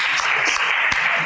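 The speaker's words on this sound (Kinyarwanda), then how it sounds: "muyikomere amashyi" A church congregation applauding together, a dense, loud, sustained burst of many hands clapping close by.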